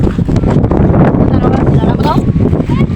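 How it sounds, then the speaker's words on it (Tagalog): Strong wind roars and buffets the microphone in a loud, constant rush while flying a kite, with voices faintly mixed in beneath. "Malakas ang hangin."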